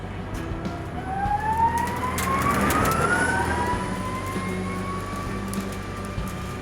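A Nissan Leaf prototype electric racing car on a racing circuit gives off a loud, rising electric whine with a rushing drive noise, sweeping up in pitch as it accelerates, heard from close by.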